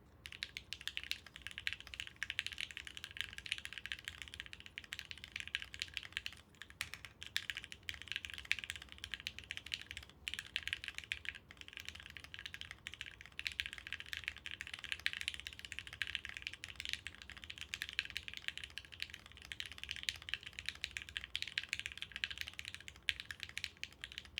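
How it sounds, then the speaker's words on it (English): Rapid, continuous clicking of keys on a computer keyboard, fast steady typing at close range with brief pauses. "maybe I need to do that before every typing test because I breezed through that"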